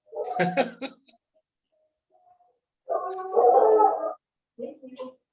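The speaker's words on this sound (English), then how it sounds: "those are my dogs that are singing to you right now" Pet dogs at home howl and whimper in a warbling chorus, two loud bursts separated by a quiet gap, then a shorter yip-like whine, heard close and alone.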